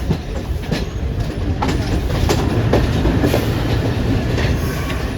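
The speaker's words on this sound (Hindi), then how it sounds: "हमारी ट्रेन रवाना हो गई है" Shalimar Express passenger train pulling out on the Lahore to Karachi line, a steady loud rumble of wheels on rails with faint rhythmic clatter throughout, heard from on board.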